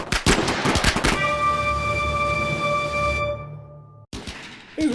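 Loud close bursts of rapid automatic gunfire from weapons in a raider firefight in a video game, several quick shots followed by a sustained ringing electronic tone that cuts off before more shots.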